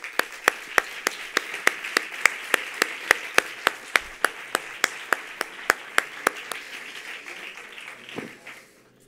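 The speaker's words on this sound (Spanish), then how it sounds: "para quienes pide un fuerte aplauso." An audience at a flamenco dance contest final claps in unison, sharp single claps landing at a steady, even beat about twice a second, crisp and moderately close before trailing off at the end.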